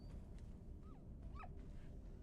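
Quiet yips and whimpering whines from dogs in the Rise to Ruins video game, a couple of short rising whimpers over a constant low background drone, no talk.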